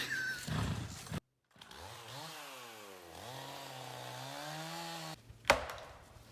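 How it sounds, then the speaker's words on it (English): A chainsaw revs and whines steadily, its pitch dipping and rising as it bites into a tree at a chateau, fairly close, ending abruptly with a sharp crack. "The chainsaw's coming out again."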